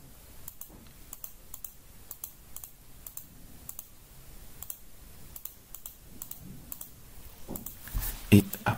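A computer mouse clicks repeatedly while someone works in BIM structural design software on a prefab building. The clicks are sharp, light and fairly faint, spaced irregularly over a low background hum, with louder handling noise near the end.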